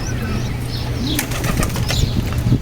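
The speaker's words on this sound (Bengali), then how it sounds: "একটা উড়ে আসলো, এটা একটা দেশি কবুতর।" A native Bengali pigeon flutters in with rapid wingbeats close by, over a steady low hum and some faint bird calls.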